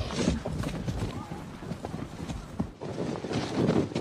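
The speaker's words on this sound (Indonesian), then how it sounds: "Temujin diikat dan diseret di belakang kuda menuju pemukiman Targutai." A horse gallops while dragging a bound captive toward a settlement, rapid clip-clop hoofbeats at moderate loudness, with narration over them.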